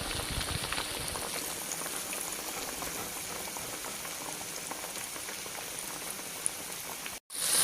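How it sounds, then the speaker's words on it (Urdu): Chicken pieces deep frying in hot oil over a medium flame, a steady dense bubbling hiss that runs evenly before stopping abruptly near the end. "اب آپ اپنے پیسز کو فرائی کر لیں"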